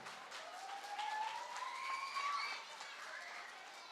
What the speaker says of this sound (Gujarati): તો તાળીઓ પાડશો તો જ રમવામાં આવશે.